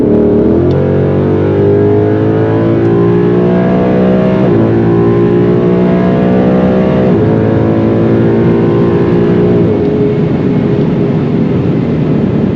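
A car engine on nitrous revs hard in several rising pulls, each climbing in pitch and then dropping off, loud and close for the whole stretch, with no talking over it.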